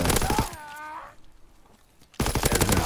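Rapid bursts of automatic gunfire in Call of Duty: WWII crackle loudly at the start and again at the end, with a quieter lull between them.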